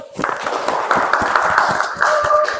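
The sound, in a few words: applause for group 1 in a classroom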